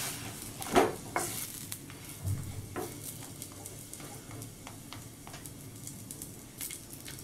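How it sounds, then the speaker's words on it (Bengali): A chicken paratha fries in oil in a pan, with soft sizzling and occasional sharp scraping and clatter from a spatula as it is turned, near and moderately loud. "এক পিঠ ভাজা হয়ে গেছে, এবার আমি উল্টে নিচ্ছি।"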